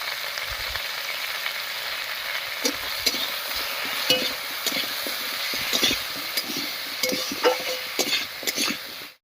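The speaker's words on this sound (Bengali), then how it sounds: "পেঁয়াজের সঙ্গে আলুটাকেও বেশ একটু ভাজা ভাজা করে নেব" Sliced potatoes and onion fry in a pan with salt and turmeric, giving a steady, fairly loud sizzle with scattered clicks and scrapes from stirring throughout, no talking.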